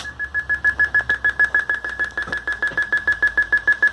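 A SKY satellite receiver's signal indicator beeps in a fast, even series of short, bright, high-pitched tones, close and clear with nothing else over it.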